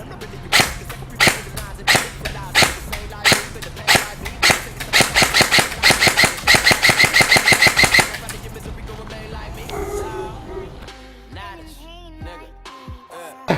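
G&G CM16 SRXL airsoft rifle firing 0.2 gram BBs on semi-automatic: a run of sharp snapping shots, spaced at first and then quicker, close and loud, followed by quieter handling sounds and a voice.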